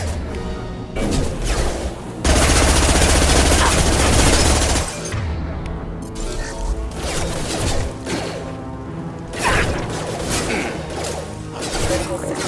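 Gunfire in Mass Effect 2 Legendary Edition: dense, loud bursts of shots and impacts, with a long sustained barrage in the middle and scattered booms and whooshes of battle around it.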